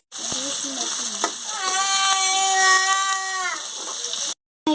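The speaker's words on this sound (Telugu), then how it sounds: "ఈ ఆనియన్స్ మంచి గోల్డెన్ కలర్ వచ్చేంత వరకు ఫ్రై చేసుకోండి" Long-sliced onions fry in a pan for a Telugu bottle gourd pulusu, giving a steady, close sizzle throughout, with a drawn-out tonal whine rising over the hiss midway before the sound cuts off abruptly.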